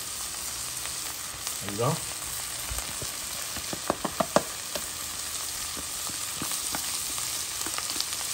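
Onions frying in a pot for a Réunion-style rougail: a steady, fairly quiet sizzle throughout, with a few soft clinks of stirring and one brief spoken word.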